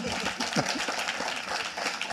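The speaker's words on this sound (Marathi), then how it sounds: "मला वाटतं या मराठी साहित्यातल्या जय वीरू जोडीवर एक जोरदार टाळ्या होऊ द्या." Applause for a pair of Marathi writers at a literary panel discussion: a dense, sustained patter of clapping from an audience, with some voices mixed in.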